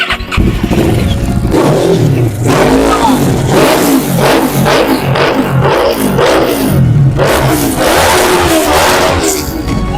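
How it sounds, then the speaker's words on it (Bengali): A Kawasaki Ninja 650 motorcycle with an aftermarket silencer revs close by, loud and repeated, the engine rising and falling in short, throaty bursts. "অ্যাপরা পবিকে সাইলেন্সার লাগানো আছে গাড়িটা সাউন্ডটা চেক করিয়ে দিই"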